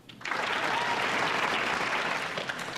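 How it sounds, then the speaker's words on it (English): Loud television studio audience applause swells in after a brief quiet start and continues densely for a couple of seconds, many hands clapping at once. "And clap if you think number two is healthier"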